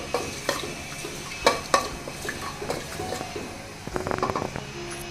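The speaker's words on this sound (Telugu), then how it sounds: "ఇవి కొంచెం దోరగా వేగాలండి" Three cardamom pods and three cloves fry in a pot as the base for vegetable khichdi, giving a soft steady sizzle broken by sharp scrapes and clinks of stirring.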